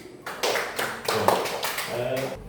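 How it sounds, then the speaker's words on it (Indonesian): Students in a classroom clap their hands together in a short, uneven spell, close and moderately loud, with some voices mixed into the clapping. "Yuk, tepuk tangan."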